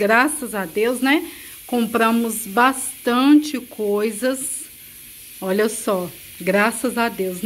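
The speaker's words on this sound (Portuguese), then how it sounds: "Já peço desculpa pelo barulho, coloquei ali um feijão para poder estar cozinhando" A pressure cooker cooking beans hisses steadily in a home kitchen, a faint continuous sizzle running beneath a woman's close, continuous talking.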